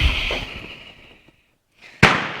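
A single sharp, loud report from a Carcano 1891 long rifle fired indoors cracks out near the end, following a fading rumble and a moment of near silence.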